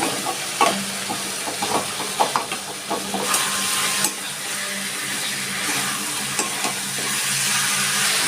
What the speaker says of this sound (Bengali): আমার মশলাটা কষানো হয়ে গেছে আমি আলুগুলো এর মধ্যে দিয়ে দিচ্ছি